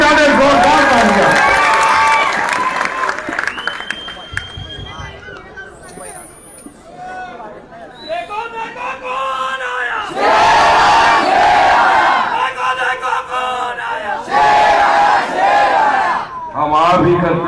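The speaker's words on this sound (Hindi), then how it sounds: "जरा तालियां बजा करके मुबारकबाद करें और वारिस पठान साहब के लिए और तालियां बजा दें, जोरदार तालियां।" Large crowd at a political rally in Surat, Gujarat roars with cheering, shouts and loud applause that swell and surge in waves, with an amplified voice heard through parts of the noise.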